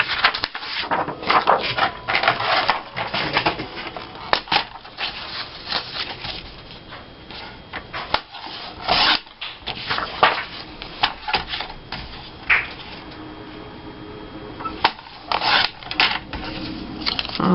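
Paper is trimmed for scrapbook portraits with close, dry cutting and rustling that runs in uneven bursts with short pauses, accompanied by handling noise.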